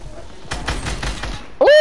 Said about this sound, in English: I thought I heard gunshots from up there.